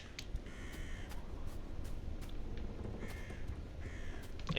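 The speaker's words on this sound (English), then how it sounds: "I hear the birds." Crows cawing in the video game Pacific Drive, a few harsh caws repeating at intervals over a quiet, steady outdoor background hiss, moderately distant and faint.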